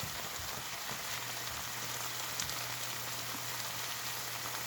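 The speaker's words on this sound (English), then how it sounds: "continue to saute and soften up a little bit" Chicken and peppers sauté in a pan for a chicken Philly, giving a steady, fairly quiet sizzle and crackle with a low hum underneath, continuous throughout with no talking.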